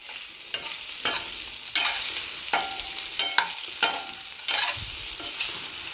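Paneer pieces shallow frying in a pan for paneer garlic dry, bursts of sizzling that rise and fall with repeated stirring scrapes, close and fairly loud, with no voices.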